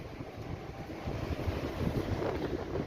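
Ganga river water rushes below Ram Jhula in Rishikesh as a continuous broad roar mixed with gusty wind buffeting, steady and fairly loud with no voices.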